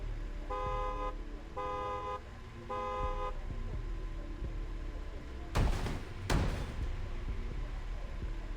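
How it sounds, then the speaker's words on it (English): Three short, evenly spaced car horn toots sound at moderate distance, followed later by two sharp thuds like a car door closing. "Did you honk?"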